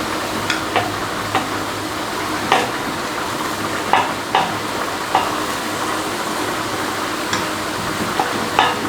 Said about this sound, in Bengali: এদিকে মাগুর মাছ ভালোই কষে উঠছে